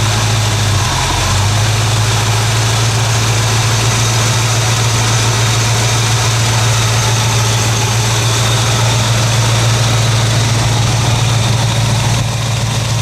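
A Ford engine idles loud and close, holding a steady low rumble with constant vibration and no change in pace throughout, and nobody speaks.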